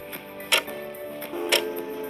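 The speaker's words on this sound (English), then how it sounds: "listening to the clock on the wall slowly counting down the seconds" A wall clock ticks, two crisp, evenly spaced ticks about one second apart, close and clear over a faint low hum.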